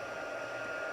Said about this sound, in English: I'm going to turn my heat gun on so it goes faster